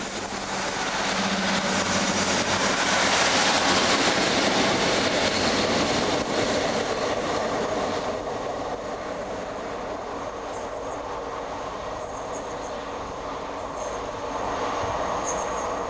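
A passenger train runs along a railway in South West Scotland near Prestwick and Ayr, with a steady loud rumble of wheels on track and some squealing, close and continuous with no talk.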